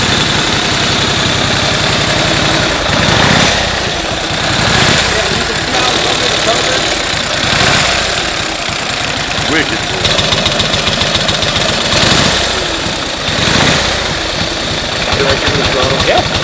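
Original, unrestored 1915 Harley-Davidson motorcycle engine running steadily and loudly throughout, with a continuous low rumble and rhythmic pulses that swell now and then as the throttle is worked.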